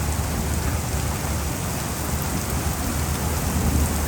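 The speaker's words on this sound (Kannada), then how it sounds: "ಫುಲ್ ಆನೆಕಲ್ಲು ಮಳೆ" A heavy hailstorm outside an office in Karnataka, with ice stones pelting down in a loud, dense, continuous roar of impacts and no breaks.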